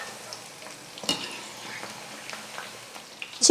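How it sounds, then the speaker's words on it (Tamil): Chicken pieces fry steadily in oil over a medium flame for a roadside-style chilli chicken, a continuous close sizzle broken by occasional stirring clinks near the start and end. "ஸ்டவ்வை மீடியம் ஃப்ளேமில் வச்சுக்கிட்டு ஒரு 7-8 நிமிஷமாவது நம்ம நல்லா ஃப்ரை பண்ணணும்."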